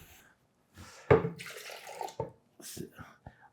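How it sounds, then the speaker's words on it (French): A cup of cold water is poured into a blender holding eggs for waffle batter. It makes a short, quiet, splashy pour with a few soft knocks around it. "Une tasse d'eau froide."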